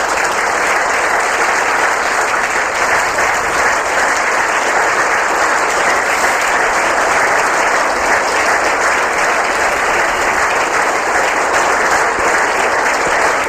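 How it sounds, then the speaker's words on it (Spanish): A church congregation applauds during a Spanish-language worship service, sustained loud clapping from a large crowd that continues evenly throughout without a break. "Invito a que le demos un aplauso al Señor Jesús."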